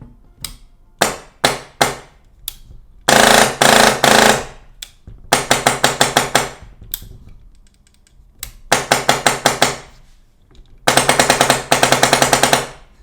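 A MAXX MTW trigger on a gun firing in repeated loud, rapid bursts, each a dense rattle of clicks, separated by gaps and short single shots.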